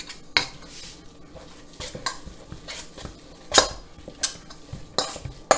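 A vegan gluten patty mixture being stirred vigorously in a bowl, with irregular clinks and scrapes of a utensil against the bowl, several sharp knocks standing out above a soft background.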